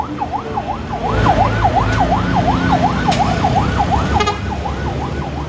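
A toy ambulance siren wails in a steady, rapid up-and-down cycle, repeating about nine times at an even rhythm, close and fairly loud over a constant background hiss.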